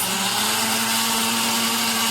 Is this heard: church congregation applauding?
no